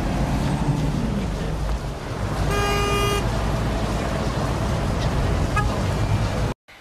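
Dense road traffic roars continuously and close, with one clear car horn honk in the middle and a fainter toot near the end before the sound cuts off.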